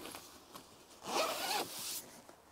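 A fabric window on a van's tent canvas is zipped closed in one long rasping pull lasting about a second, preceded by faint shuffling handling sounds, close and with no talk.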